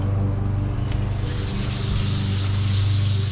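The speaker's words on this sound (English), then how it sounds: "Just gonna use this same 240 pad. Just try to sand that nice and smooth." A 240 grit sanding pad rubs steadily along the rail of a surfboard being repaired after its tail snapped off, a close, continuous abrasive scrubbing with no talk.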